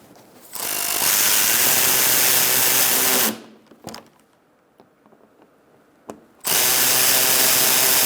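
A power tool drives a screw into the plastic front bumper cover of a 2000s Ford Taurus, giving two loud whirring runs of a few seconds each, close up, with a quiet gap of faint handling noises between them.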